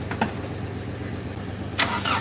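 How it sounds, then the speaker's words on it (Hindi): A car engine with a failed camshaft position sensor idles unevenly, its rumble surging and sagging, with a couple of sharp clicks near the start and end. "हंटिंग का साउंड आप सुन सकते हैं।"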